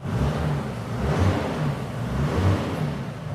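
Ford Ranger engine idling with a knocking fault, a steady, close, fairly loud low rumble with faint rhythmic knocks pulsing underneath, continuous throughout with no talking.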